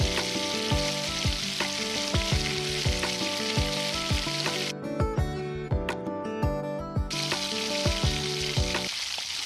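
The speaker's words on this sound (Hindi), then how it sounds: "बस 2 चम्मच तेल में अभी थोड़ा सा लहसुन डालूँगी और इसको ब्राउन करूँगी।" Garlic browns in about two spoons of hot oil in a pan in a small Indian kitchen, a steady, loud sizzling hiss that runs throughout with a rhythmic pulse beneath it.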